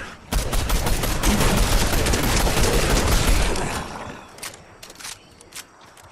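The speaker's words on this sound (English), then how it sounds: "Oh, I'm getting shot at." Dense, sustained gunfire erupts in a video game, a loud rattle of rapid shots for several seconds before easing into scattered, fainter pops and footsteps.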